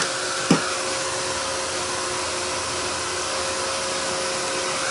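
A hair dryer blows steadily to dry paint in a home art room, a continuous airy whir with a faint tonal hum that runs unchanged throughout, with one brief knock near the start.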